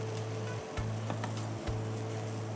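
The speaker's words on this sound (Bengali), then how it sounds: "যতক্ষণ কালার না আসবে ততক্ষণ আমাদেরকে এটা ভেজে নিতে হবে" Onions frying together with mashed eggplant in a pan make a continuous close sizzle, joined by a low repeating hum that cuts out briefly twice, with no voices.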